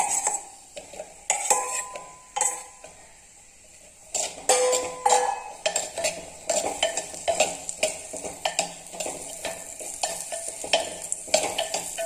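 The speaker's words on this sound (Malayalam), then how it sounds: "ഇതിലേക്ക് കായ ചേർത്തിട്ട് കൊടുക്കും ഒന്ന് വഴറ്റിയെടുക്കാൻ" Ripe plantain is sautéed in ghee in a clay pot, with a spoon scraping and clinking repeatedly against the pot over a soft sizzle, up close and without speech.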